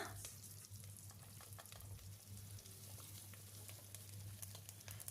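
Chopped bottle gourd fries in a pan for temple-style sambar, a faint, steady sizzle with light crackles and a low hum underneath, continuous and quiet with no one talking.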